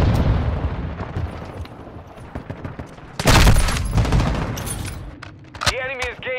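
A decoy grenade in Call of Duty: Modern Warfare II mimics gunfire with scattered bursts of shots, alongside a loud blast midway, more shooting and a synthetic warbling tone near the end, all set in busy battle noise.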